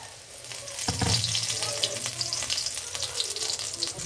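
A whole spinach leaf dipped in batter sizzles as a pakora in hot oil, a steady bright hiss with bubbling crackles throughout, fairly close and continuous.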